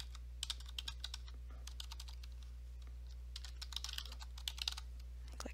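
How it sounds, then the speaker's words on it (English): Steady light typing on a computer keyboard while a name is entered, quick irregular key clicks over a low constant hum, close but quiet, with no talking. "I'm going to type in my"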